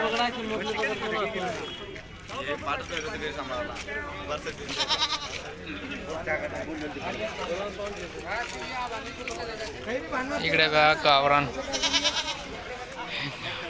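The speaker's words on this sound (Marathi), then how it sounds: "गावरान शेळ्या" Village goats bleat repeatedly at a busy livestock market, several calls rising above constant crowd chatter and bargaining voices close by.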